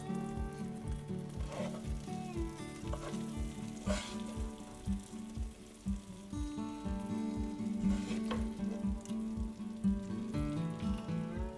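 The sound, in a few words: gravy added to frying stuffed chilli curry, sizzling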